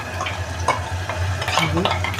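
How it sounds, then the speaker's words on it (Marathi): Thick ground spice paste sizzling and crackling in hot oil over low flame, with scraping stirring strokes throughout and a steady low hum underneath. "वाटण चांगलं परतून घ्यायचं छानपैकी"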